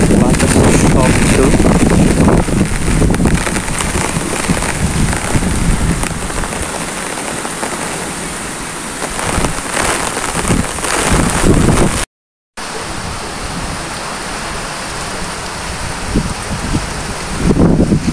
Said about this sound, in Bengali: ঝিরিঝিরি বৃষ্টির সাথে বাতাস।